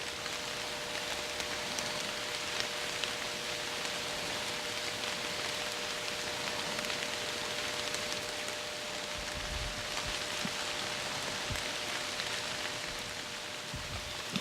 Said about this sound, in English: It's been pouring rain for the last